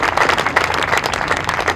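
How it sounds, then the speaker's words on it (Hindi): An audience at a spiritual discourse claps loudly in a dense, continuous burst of applause, many hands striking at once with no voices over it. "इसमें जोरदार ताली बजाइए"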